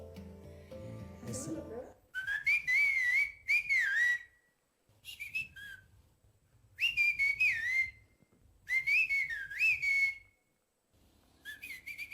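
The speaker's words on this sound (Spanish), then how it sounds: "puedo hacer un chiflido hacia mi primo que se encuentra allá afuera" A person whistles a series of loud, warbling signal calls, rising and falling in pitch, in several separate bursts with short silences between.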